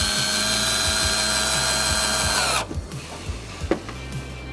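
A power drill whines steadily for a couple of seconds as it drives a screw into a hatch lid, then stops, leaving a low hum and a few clicks.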